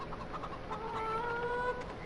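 Chickens in a video game clucking softly, a few short calls and a longer drawn-out cluck over quiet background hum.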